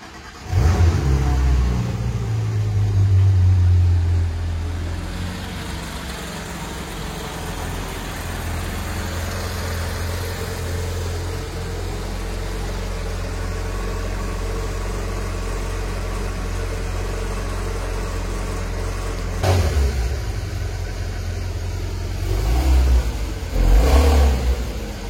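A Porsche GT3 pulls away from a showroom, its engine revving loudly at first, then settling into a steady mid-pitched drone as it drives off, with a couple of further revs near the end.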